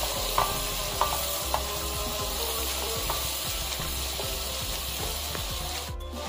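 Chopped carrots sizzle steadily in a hot pan while a utensil stirs and scrapes them in a loose, repeated rhythm, close and fairly loud with no talking.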